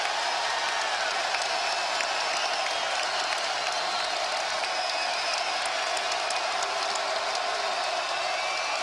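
Arena crowd noise during a West Virginia at Texas Tech men's college basketball game, a steady dense roar of home fans for the Red Raiders filling the whole stretch, loud and constant with no single standout cheer.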